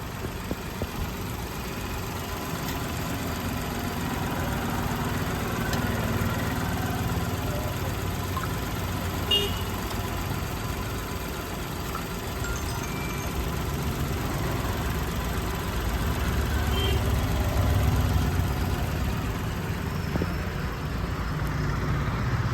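A 2011 Hyundai Eon Era petrol car engine idling, a low, steady, quiet hum that holds evenly for over twenty seconds with no talking over it.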